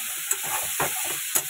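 Broad beans with lemon, turmeric and chili fry in a pan, making a brief, steady sizzling hiss broken by a few quick stirring scrapes.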